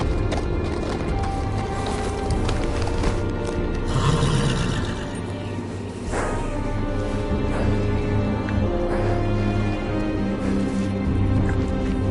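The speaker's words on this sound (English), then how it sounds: "On a horse, no less." Horse hooves clip-clop steadily in the Telltale Game of Thrones game at the gate of the Wall, seat of the Night's Watch, a continuous close rhythm over a busy ambient game backdrop with a brief neigh near the middle.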